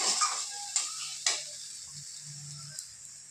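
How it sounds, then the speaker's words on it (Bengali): Spices cooking in oil in a pan give a soft steady sizzle, with a few sharp scrapes and clinks of a spoon stirring against the metal. "মশলা কষি"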